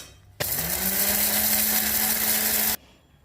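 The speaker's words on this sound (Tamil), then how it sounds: "கொஞ்சம் காஞ்ச மிளகாவையும் இதையும் போட்டு கொஞ்சம் உளுந்து சேர்த்து அரைச்சிக்கலாம்" A mixer grinder whirs loudly for a little over two seconds as it grinds dried red chillies, curry leaves and urad dal, starting and stopping abruptly with a steady high-pitched motor whine.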